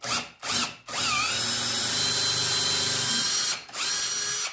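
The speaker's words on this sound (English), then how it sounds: "See how well this Harbor Freight drill bit handles this hard maple." A power drill with a Harbor Freight bit whirs in two short bursts, then bores steadily into hard maple for a few seconds before winding down and starting again briefly.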